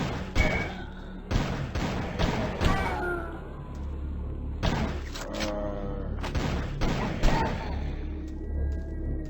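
In the flash shooter game Decision, a string of sharp gunshots and impact bursts fires in an uneven rhythm, loud and close, with game effects and some voice mixed in.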